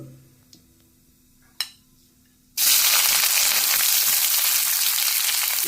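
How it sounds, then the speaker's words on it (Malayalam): Onions dropped into hot oil in a chatti burst into a loud, steady sizzle after a few faint clicks, hissing continuously and up close with no talking. "നമുക്ക് കപ്പ മാറ്റിയിട്ട് ഇനി സവാളയൊക്കെ വാട്ടിയെടുക്കാം"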